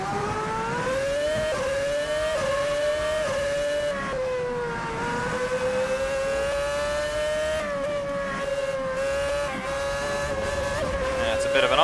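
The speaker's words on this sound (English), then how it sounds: "Nice reverberation sound effects as well. Not sure how well you can hear that, but it's bouncing off the hillside here." A race car engine in Assetto Corsa echoes off a hillside, its high, steady drone rising and dipping slightly in pitch as it holds a loud, continuous note throughout.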